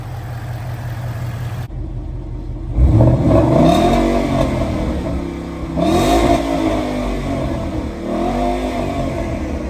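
A modified 800-horsepower 2014 Ford Mustang GT V8 revving up close, two sharp rising blips that sweep up and fall back to a rumbling idle, with a brief silent gap before the first rev.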